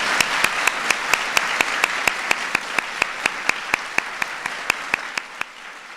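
At a medal ceremony honoring museum and library recipients, an audience gives sustained applause for the honorees, with a run of sharp, evenly spaced claps cutting through the steady wash before it tapers off at the end.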